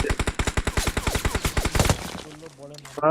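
Rapid bursts of automatic gunfire from a shooting video game, a fast rhythmic volley of shots for about two seconds, then quieter game sounds and a brief tonal effect.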